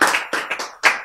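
A lecture audience breaks into short clapping: a few sharp, close bursts of hands coming in quick uneven waves, with no talking over them.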